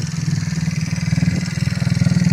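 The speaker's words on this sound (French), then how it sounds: "Avec une nouvelle, comment dire, échappement. Il a mis un bon bruit, franchement." A Boston four-stroke Euro 4 scooter with a new exhaust runs at a steady idle, a close, loud, pulsing low throb with even rhythmic beats throughout.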